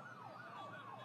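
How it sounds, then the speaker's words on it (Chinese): Ambulance and police car sirens wail in a repeating rising-and-falling sweep, muffled and faint, as an audiobook sound effect. "救护车和警车在第一时间赶到"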